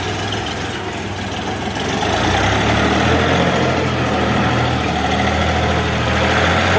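A Xingtai 244 minitractor's diesel engine runs steadily close by with a low, throbbing drone, growing slightly louder after a couple of seconds as it drives along.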